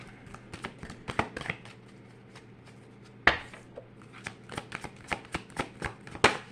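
An Angel Answers card deck is shuffled by hand, a run of crisp riffling flicks and taps in quick irregular bursts, close and clear with no talk.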